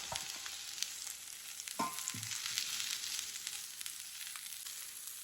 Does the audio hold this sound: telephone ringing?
no